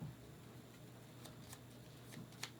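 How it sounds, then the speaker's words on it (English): A deck of cards for the Foxpaw board game is shuffled in several soft riffling bursts, close but very quiet against a faint room hum. "So we're shuffling."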